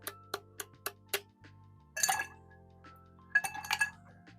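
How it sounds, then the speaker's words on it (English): Ice cubes are cracked with a small handheld ice cracker while making Manhattan cocktails: five quick, evenly spaced taps, then louder crunching bursts, close and clear. "I'm just going to crack some pieces of ice."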